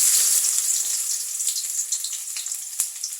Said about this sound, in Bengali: তেল দিয়ে দিছি এখানে কড়াইতে। পেঁয়াজ দিয়ে দিলাম